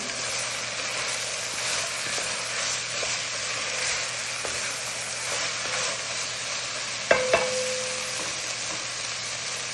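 Tomato being stirred into a pan of sizzling ground meat: a steady close frying hiss throughout, with a couple of sharp utensil clinks against the pan near the end and a faint low hum underneath.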